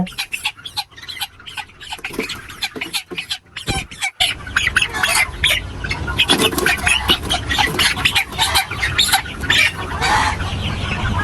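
A Tiger-breed chicken squawks and clucks in agitated bursts while being caught and weighed. The fluttering, scuffling and handling noise is close and grows denser and louder through the second half.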